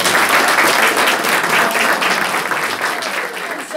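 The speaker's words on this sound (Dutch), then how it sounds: "Een groot applaus voor die bijzondere vrouw," Loud audience applause for a singer at a CD launch, close and enthusiastic clapping from many hands, strong at first and easing slightly toward the end.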